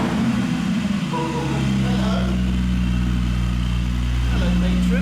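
A Porsche Spyder with a new exhaust idles with its valves closed, a deep, steady, close engine drone that rises slightly in pitch partway through and holds evenly to the end.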